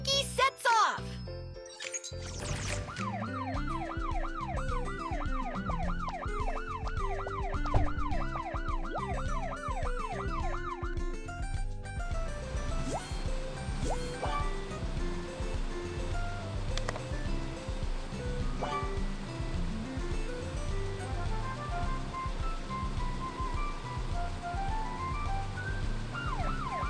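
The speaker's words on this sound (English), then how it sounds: "Firefighter Kiki sets off." Cartoon fire truck siren in a children's animal animation, a wailing up-and-down tone near the start over cheerful music and jingles, then music carries on with a child-like voice speaking under it.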